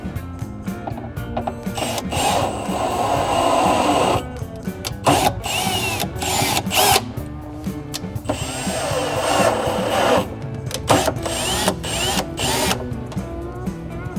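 A power drill whirs in repeated bursts, revving up and stopping as it drives screws during a car audio install in a 1967 Barracuda, with brief pauses and clicks between runs.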